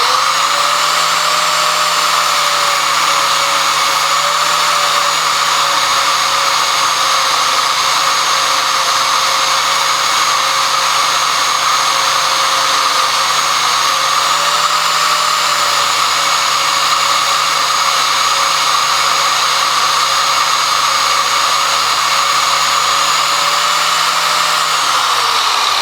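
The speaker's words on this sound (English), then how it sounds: "Now I just have a 80 grits flapper disc sander disc on there, which works just fine." Angle grinder fitted with an 80-grit flap disc sanding metal, a loud steady high whine holding pitch with slight dips under load throughout, no voices.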